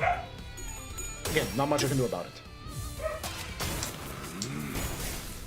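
A dog barks and yips several times in the background while someone talks over it, the barks short and moderately loud, spread across the stretch.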